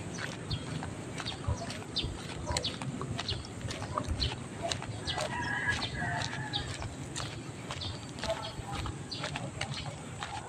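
Chickens at a backyard coop, scattered clucks and fowl calls amid footsteps and rustling, with a person talking nearby.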